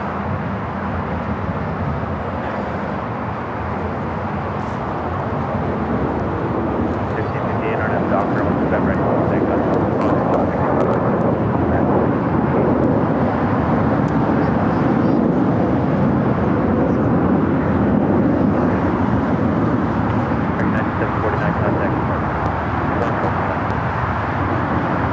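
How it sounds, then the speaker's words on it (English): A Singapore Airlines Boeing 777-300ER pushes back at Los Angeles International Airport. Its engines give a steady, distant broadband rumble that swells gradually over the clip and holds under constant airport ambience. "Singapore, the 777-300ER, the flight heading back to Tokyo Narita, now pushing back"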